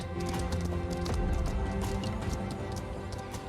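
Steady clip-clopping of video game horse hooves at a trotting pace, layered over a dense musical backdrop.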